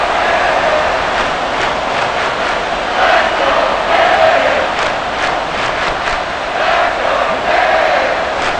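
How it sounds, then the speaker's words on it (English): A stadium crowd roars and cheers in Madden NFL 24 during a Kansas City Chiefs versus Miami Dolphins game ahead of a big third down, a steady, dense wash of noise with swelling surges of shouting throughout. "The crowd getting into it as we come up on a big 3rd down."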